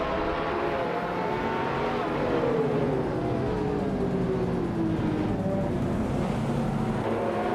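A pack of race cars including a 2020 Koenigsegg Jesko launches off the line at Dijon Prenois in a racing game, engines droning and rising in pitch together, a sustained loud roar of acceleration with no talk.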